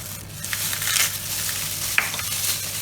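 Homemade cottage cheese mixed with two eggs is mashed in a bowl for syrnyky, giving a close, continuous wet scraping and squelching with a small click near the end.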